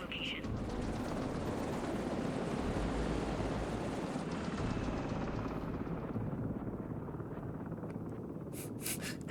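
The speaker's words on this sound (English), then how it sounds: "Helicopter sounds." A helicopter, a loud broadband rotor roar that dominates before easing and thinning toward the end, with a voice briefly heard.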